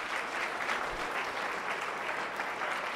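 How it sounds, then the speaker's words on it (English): Steady applause from an audience at a climate optimism event, clapping for the panelists, with even and continuous clapping at moderate distance throughout. "one big round of applause for our panelists as well"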